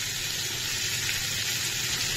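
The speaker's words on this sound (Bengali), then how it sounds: "যেহেতু আলু আর পটলগুলো অলরেডি আমার ভাজা হয়ে গেছিল, তার জন্য আমি দেব একদম অল্প জল।" Frying potatoes and pointed gourd in a pan get a small splash of water, giving a steady, close hiss and sizzle with a faint bubbling underneath, no voices.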